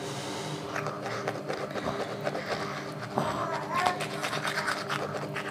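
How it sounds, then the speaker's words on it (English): A child brushing teeth with a toothbrush, steady scrubbing and scraping strokes close by, with people talking over it throughout. "So you better maintain and brush your teeth"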